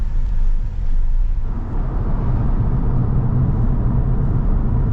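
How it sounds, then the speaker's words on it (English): Inside a car driving on a road in Belgium, a steady low engine and road rumble continues without a break, heard close and fairly loud with no talking. "we're in the car then"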